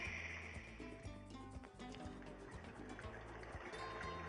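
A faucet runs softened water into an aquarium tank, a steady close liquid pour and trickle with low rhythmic hum underneath.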